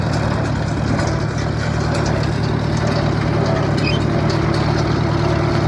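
Tractor engine running steadily out in a hay field during baling, a continuous low rumbling drone that stays loud and even throughout with no voices.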